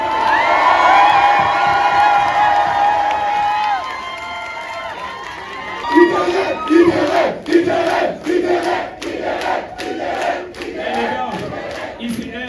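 A large crowd cheers, whoops and shouts loudly, a sustained roar that turns into choppier, rhythmic bursts of yelling toward the end.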